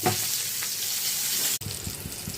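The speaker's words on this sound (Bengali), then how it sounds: "আর দেখো আমি পটলটা দিয়ে দিয়েছি আর নুন হলুদ দিয়ে এবার এটা লাল লাল করে ভাজবো।" Pointed gourd frying in hot oil with salt and turmeric, a dense, steady sizzle heard up close and fairly loud, briefly cut by a short dropout before the hiss and faint stirring resume.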